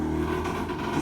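A motorbike engine revs steadily and fairly close, a throaty continuous drone with slight rises in pitch and no talking over it.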